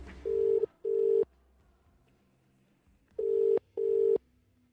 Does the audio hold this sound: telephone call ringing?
yes